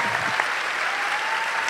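Seminar audience at a national psychology and public policy event applauds, a dense steady patter of clapping filling the room for the whole short stretch.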